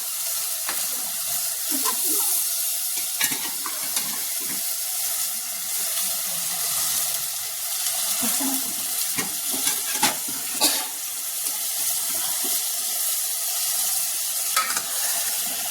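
Goat trotters go into hot oily masala and sizzle loudly and steadily, close by, while a spoon scrapes and stirs them in irregular bursts.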